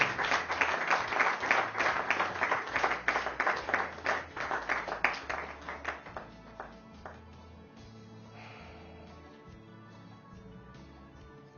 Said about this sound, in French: On ne peut pas quand même applaudir même une minute.